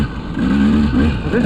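A KTM 200XC two-stroke dirt bike engine revs loudly and close, its pitch climbing and wavering in short surges, with a voice speaking over part of it.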